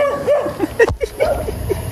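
A dog outdoors at a nature place gives a run of short yips and whimpering barks, close and moderately loud, in a quick uneven rhythm across the clip.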